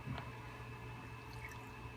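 Isopropyl alcohol drips off freshly cleaned resin 3D-printed parts from an Elegoo Mars printer, a few faint, close wet drips and splatters in an otherwise quiet room.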